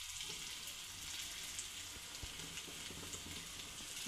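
Chopped vegetables sauté and sizzle in a hot pan, giving a steady, moderately quiet crackle with faint scraping and stirring clicks throughout and no talking.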